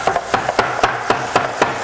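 A knife chops celery on a cutting board, giving about eight sharp, evenly spaced knocks close by, with no voices.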